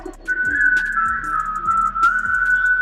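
A person whistles a melody in a clear, steady, sustained tone with a few short note changes, close and alone over faint background music.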